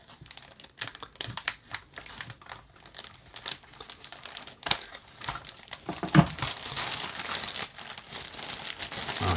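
A plastic Ziploc bag crinkles and rustles close by as toy parts are unpacked, with scattered crackles and handling noises that grow denser toward the end.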